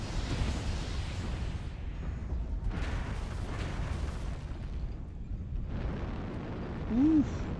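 Weapon fire in the MechWarrior Online video game: heavy booming blasts and rumbling bursts in long surges, separated by brief quieter gaps, loud and close, with a short tonal sweep near the end.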